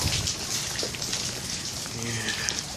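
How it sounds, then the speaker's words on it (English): Heavy rain pours down steadily outdoors during a flooding downpour, a dense continuous hiss close by with a faint voice briefly underneath. "It was raining hard"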